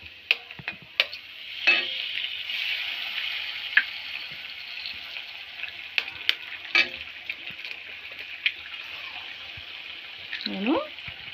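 Eggs sizzle in a hot pan while egg fried rice is being made, a steady close frying hiss broken by sharp clicks and scrapes of stirring, with a short vocal sound near the end.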